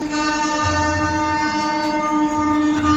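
An Amrit Bharat Express passenger train on its inaugural special run from Howrah to Anand Vihar, Delhi, rumbles along with a loud, steady droning hum and a low rolling undertone. No one speaks.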